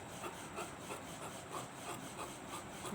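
Scissors trimming extra cloth from a blouse lining, a soft continuous rasping of blades through fabric heard close up and alone.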